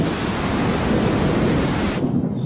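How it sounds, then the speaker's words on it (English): Roaring storm wind in a dramatic scene: a loud, dense, steady rush of noise that stays constant for about two seconds, then its upper hiss drops away abruptly near the end. "So the storm shuts her down?"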